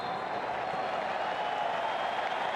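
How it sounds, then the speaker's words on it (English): A stadium crowd at a Barcelona versus Juventus football match gives Neymar a steady, sustained round of applause, a continuous wash of clapping and crowd noise heard from a distance, with no speech over it. "everybody here is standing to applaud because it has been utterly remarkable"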